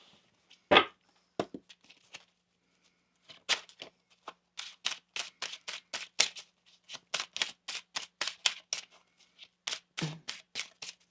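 A deck of tarot cards being shuffled, a sharp tap followed by a run of crisp riffling flicks, close and fairly quiet with no voices.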